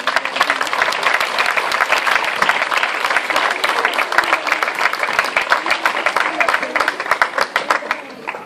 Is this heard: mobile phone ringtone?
no